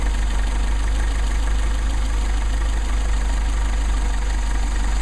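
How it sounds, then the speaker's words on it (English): A Mercedes 190SL engine idles with a steady low hum and rumble while its carburetors are adjusted, loud and continuous with no talking. "Want to screw them until the engine stumbles and back them out until the engine stumbles and get your midpoint"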